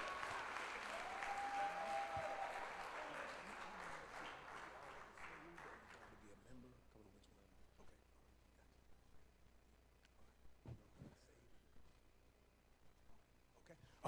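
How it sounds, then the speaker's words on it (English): Church congregation applauding and clapping in praise during a worship service, loud sustained clapping for about six seconds that then fades into scattered claps and room noise. "Somebody give God a hand clap of praise."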